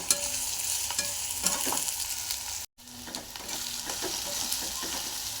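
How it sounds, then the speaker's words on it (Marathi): Onions and green chillies frying in oil, a loud continuous sizzle and crackle with stirring scrapes, broken by a brief moment of silence midway, no talking. "आता हे सर्व आपण तेलात भाजून घ्यायचं।"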